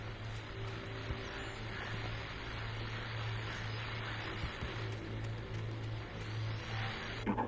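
Car engine running steadily in the video game Alan Wake, a continuous low hum with road noise at even loudness throughout, no talking.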